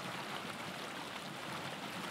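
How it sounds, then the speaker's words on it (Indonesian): River water flowing in Kyrgyzstan, a steady broadband rush that stays even and fairly faint throughout, with no voices. "Air yang mengalir di sungai-sungai di sini amat bersih dan tidak tercemar"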